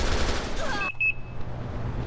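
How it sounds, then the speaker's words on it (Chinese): Dense automatic gunfire in a tactical shooter video game, a loud rapid burst that cuts off abruptly, followed by a few short electronic beeps over quiet background. "哎，他过来刚好开枪了"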